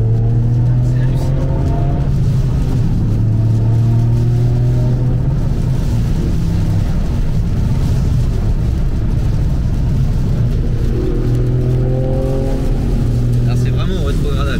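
Toyota Yaris GR Track Pack with an Akrapovic exhaust downshifting on the move, engine note rising and falling in loud harmonic sweeps with burbles between shifts, close and continuous, with someone talking over it.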